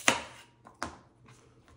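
Knife chopping onion and celery on a cutting board, two sharp close chops followed by a few lighter taps, spaced irregularly with quiet gaps and no speech.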